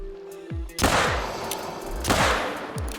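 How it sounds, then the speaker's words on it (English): Two loud, sharp shots from a .454 Rhino revolver in theHunter Call of the Wild, fired about a second and a half apart during a crocodile hunt, each with a booming tail and quieter game ambience between. "now he's alert, so I'ma shoot him using the 454 Rhino"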